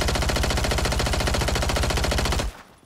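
Sustained automatic gunfire in Call of Duty, a rapid, evenly spaced burst of loud shots lasting about two and a half seconds before cutting off abruptly into quiet.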